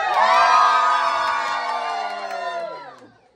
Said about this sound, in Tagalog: Isang sigaw muna from Team Girl!